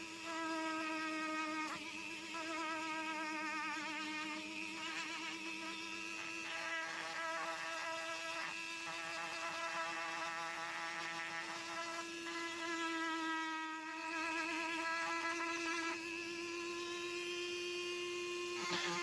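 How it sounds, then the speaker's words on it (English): A rotary round stone smooths and rounds the edges of a carved wooden fish fin, giving a steady, faint, high whine that runs without a break and shifts slightly in pitch. "I need to round it off, and I do that with a round stone."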